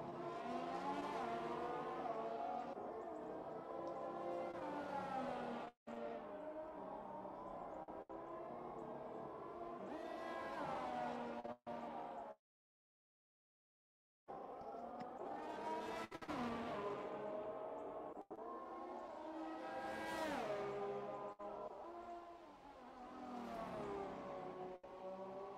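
Mercedes race car on a circuit passing close by, engine roaring loud and steady with rising and falling pitch as it speeds along the track, a short gap of silence midway, no talk.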